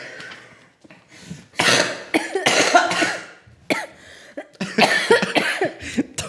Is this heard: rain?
no